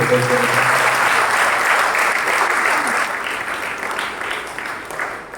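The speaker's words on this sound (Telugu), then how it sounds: "అందరం కూడా చప్పట్లు కొడుతూ ఫాదర్ గారికి" A church congregation at a First Advent Sunday Holy Mass applauds, a dense sustained clapping from many hands that gradually fades toward the end, with a voice briefly present at the start.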